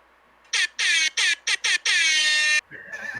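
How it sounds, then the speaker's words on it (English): An air horn blares in several short choppy blasts and then one longer sustained honk, loud and close, with brief faint voices afterward. "If you tried to activate an air horn, it kind of didn't go through fully."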